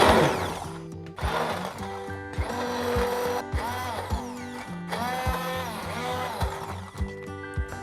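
Blender pulsing broccoli in creamy broccoli cheese soup, several short motor bursts with brief pauses between them, loud and close with a whirring pitch that rises during each pulse.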